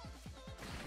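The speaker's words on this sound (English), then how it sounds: "Oh, the reloading." A marksman rifle being reloaded in Modern Warfare, a quick, quiet sequence of sharp mechanical clacks and knocks lasting under a second.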